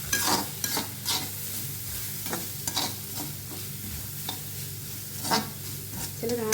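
Ground coconut paste fries in a pan for a sprouted green gram plant thoran, a steady low sizzle broken by repeated scraping stirs of a spoon against the pan, close and moderately quiet, with no talk.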